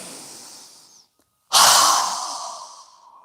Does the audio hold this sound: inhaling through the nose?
yes